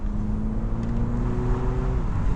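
A 2024 MINI Cooper S Convertible's engine gets a short rev, a steady, loud mechanical drone with a rising then falling pitch sweep, heard close with no talking.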